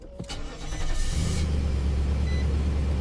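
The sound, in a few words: 2018 Nissan Titan truck engine cold start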